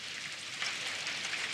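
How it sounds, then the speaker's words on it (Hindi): Steady rain pours down in a cartoon scene, a dense, even hiss of falling drops that grows slightly heavier partway through, with no voices over it. "बारिश बारिश हो रही है डैड।"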